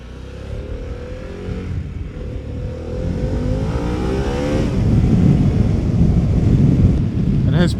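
Harley Davidson Pan America V-twin motorcycle engine revs and pulls steadily under wind buffeting, a rough, loud drone rising in pitch as it accelerates, with a brief sharp noise at the end.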